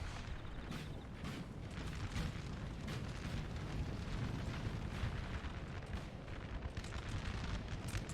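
Massed musket volleys and battlefield gunfire from a Napoleon: Total War multiplayer battle, a dense continuous roar of overlapping shots and booms with no clear gaps, loud throughout.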